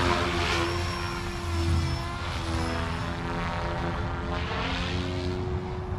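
Goosky RS4 RC helicopter spinning up in idle up one produces a steady whirring rotor and motor drone with a high whine, close and continuous with slight swells and no talking.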